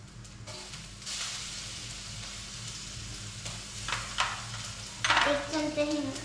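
Cumin and mustard seeds sizzling in hot oil, a low steady hiss with a hum underneath, rising as seeds hit the pan and crackling in short bright bursts near the end.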